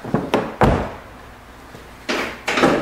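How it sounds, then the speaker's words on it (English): A door is shut with several sharp thuds and knocks, two clustered early and two more a moment later, loud and close in a quiet room with no talking. "Oh, I got the door closed"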